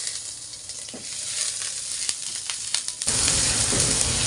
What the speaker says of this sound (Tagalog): Gigisa ko na po yung ating ground beef. Tapos, bawang po.